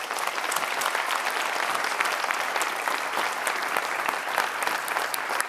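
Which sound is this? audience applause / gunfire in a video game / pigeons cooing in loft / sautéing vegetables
audience applause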